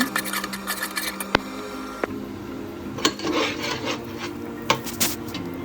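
Ground chili, coriander and cumin powders being mixed with salt in a pan for coriander-leaf khichuri, a steady close scraping and rubbing of a spoon against the pan with a few sharp knocks.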